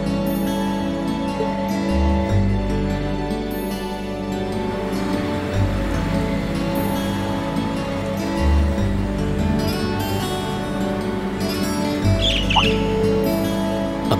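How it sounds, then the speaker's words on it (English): A bird squawks and chirps within a Trails of Cold Steel video game scene, set over a steady bed of game music and ambient sound, with a sharp call standing out near the end. "A bird."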